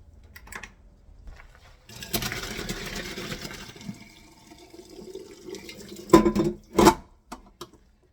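Boiled handmade noodles drained in a kitchen, a rushing pour of water lasting a few seconds, then quieter dripping and two louder clanks of the pot or colander, close and without talk.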